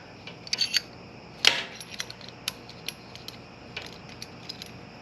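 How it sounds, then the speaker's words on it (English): A chain breaker tool presses the center locking pin out of a Coleman mini bike chain link, giving a few small metallic clicks and creaks with a louder snap partway through, close and quiet, with no voices. "you just hold the brake and turn the pin for it to push the center locking pin out of the chain"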